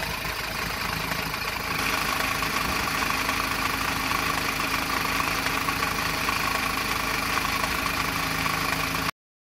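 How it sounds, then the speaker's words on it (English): A Mazda 2.2 Skyactiv D diesel engine idles steadily, recorded close to the timing chain with a rattling, vibrating mechanical chatter under the continuous engine drone, with no talking. "So the noise increased as I got closer to the engine timing chain."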